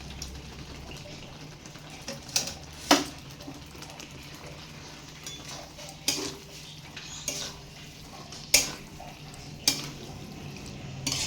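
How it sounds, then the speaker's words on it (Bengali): Taro stolons tipped into a spice paste frying in oil and stirred, with repeated sharp clinks and scrapes of a spoon against the pan over a low steady background hiss; no one speaks. "এইবারে আমি কচুর লতিগুলো সবগুলো দিয়ে দেবো"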